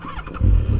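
A Kawasaki Z1000 four-cylinder motorcycle engine cranks briefly and then catches into a loud, close, low rumble within a second.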